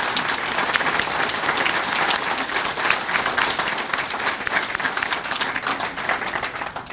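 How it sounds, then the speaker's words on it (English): Audience at an American Legion community service awards ceremony applauding the recipients, a full, steady burst of many hands clapping that carries on evenly for several seconds. "give all our recipients a round of applause,"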